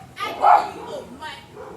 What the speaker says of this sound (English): What kind of dog is that she got? Look like a Shih Tzu.